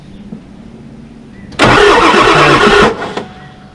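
A car engine cranks hard for just over a second while trying to start on brake cleaner, a loud churning burst over a quiet background that cuts off without catching.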